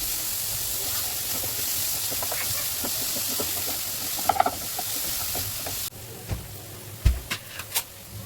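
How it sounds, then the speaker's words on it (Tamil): Onions sautéing in oil in a pan, a steady sizzling hiss with occasional stirring clinks, the sizzle dropping quieter partway through. "ஒரு பேனில் ஆயில் சேர்த்து அதுக்கப்புறம் இந்த வெங்காயத்தை ஆட் பண்ணி நல்லா வதக்கி"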